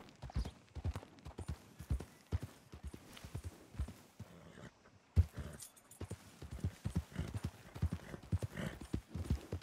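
Horse hooves clip-clop at a steady, rhythmic walking pace in Red Dead Redemption 2, moderately close and clear, with a short pause midway before the hoofbeats resume.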